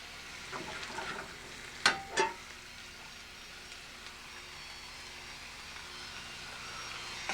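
Garlic frying in a hot pan gives a soft, steady sizzle that runs through the whole stretch, with a couple of brief louder clatters early on and no talking.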